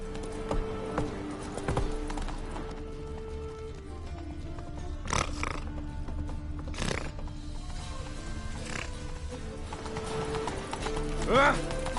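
In The Witcher 3 video game, the horse Roach runs with steady clip-clop hoofbeats under game music, with a couple of sharp whinnies or snorts and spoken dialogue partway through.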